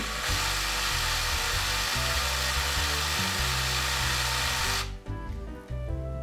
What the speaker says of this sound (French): j'essaye de faire en sorte que ma mèche garde une position centrale